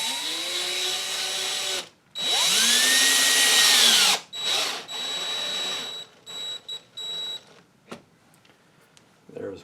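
A drill runs at very slow speed into aluminum, whining in several short bursts that rise and fall in pitch, separated by brief pauses and softer handling noises.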